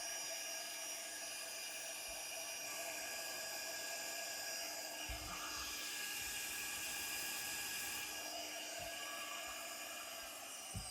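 An air-cooled PwnCNC spindle on a CNC machine runs steadily after being repaired, giving a continuous high-pitched whine with a layered tonal hum. The sound stays close and even throughout, with a few faint low knocks.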